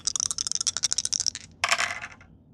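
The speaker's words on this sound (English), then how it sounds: "So we'll roll the dice to see what we get." Dice are rolled on a tabletop: a quick run of sharp clattering ticks as they tumble, a brief pause, then a final rattling burst as they settle, close and fairly quiet.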